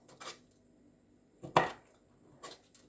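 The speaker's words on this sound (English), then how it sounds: "slice the kidney" Knife slicing through raw kidney on a board: a few sharp, separate cuts spaced about a second apart, close and fairly quiet, with no talk.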